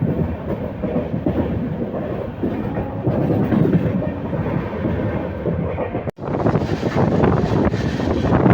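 Intercity superfast express train from Lingampalli to Vijayawada, 21 coaches, running at speed while another train overtakes: steady loud rumble, clatter and wind noise, with a sudden brief gap and then a brighter, louder rush as the passing train roars alongside.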